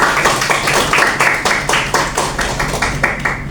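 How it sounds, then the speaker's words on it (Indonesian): A small group in a meeting room claps together in a quick, even burst of about a dozen sharp handclaps, close and fairly loud, with no talking over it. "Boleh apresiasi, tepuk tangan dulu semuanya."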